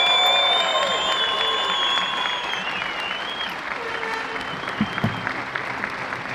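A large Estonian crowd applauds steadily at a women's disc golf European Championship final, a dense, loud wash of clapping with a few cheers that holds throughout and eases slightly toward the end.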